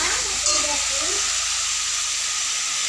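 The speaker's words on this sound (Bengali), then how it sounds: "দেবো নুন দিয়ে একটু ভালো করে নাড়িয়ে চাড়িয়ে নেব।" Food frying in a pan as salt is added and the pan is stirred, a steady sizzle with brief soft stirring scrapes near the start, close and fairly loud throughout, with no talking.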